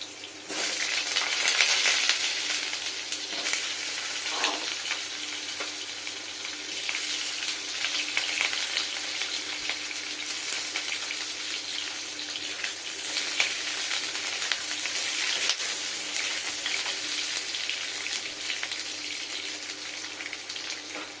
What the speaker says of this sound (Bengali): এটা হচ্ছে সাদা তেল আর আলুটাকে প্রথমে আমি ভেজে নেবো